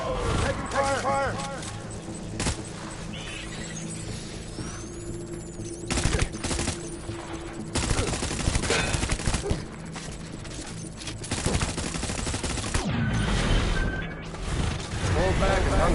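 Gunfire in Death Stranding: bursts of shots and sharp crashing impacts come in irregular clusters among game effects, with someone talking over much of it.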